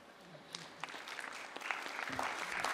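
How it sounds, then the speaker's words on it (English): A conference plenary audience gives a faint, short round of applause that builds slightly over a couple of seconds, scattered and distant in a large room. "if the room agrees with me, I think they can applaud you for 1 second"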